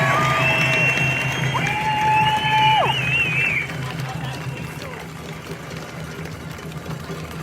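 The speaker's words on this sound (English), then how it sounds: "I think that you all deserve a big round of applause." An outdoor crowd at a freedom rally in Perth, Western Australia, cheers and claps with high whistles and whoops, loud for a few seconds before dropping to a quieter murmur.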